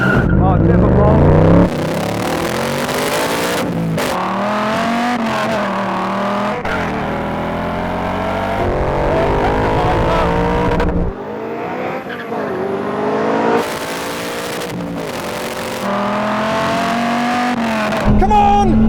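Cobra, Viper and Mustang sports cars launch side by side in a drag race, loud engines revving and rising through gears with tire squeal, a brief lull midway before the roar resumes, with someone talking over it.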